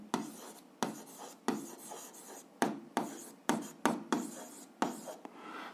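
Pen writing by hand on paper while working an algebra exercise: repeated short scratching strokes in bursts separated by brief pauses, close and fairly quiet, with no talking.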